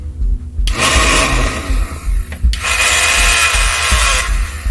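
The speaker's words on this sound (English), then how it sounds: "when I depress the switch, it should rev" A battery-powered Nerf Foxfire Modular Blaster System fitted with dyed Daybreak flywheels revs up in two loud bursts, a rough whirring spin-up with a short break between them, heard close and alone.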